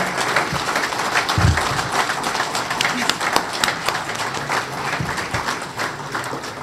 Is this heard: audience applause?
yes